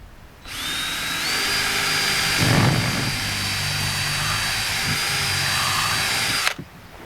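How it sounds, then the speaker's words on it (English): A 3/8 inch power drill bores through wooden boards for a firewood saw buck, one steady high whine lasting about six seconds, close and loud, with no talking. "take your 3/8 inch drill and drill every one of these boards"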